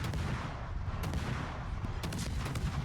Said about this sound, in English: These are Mogador guns.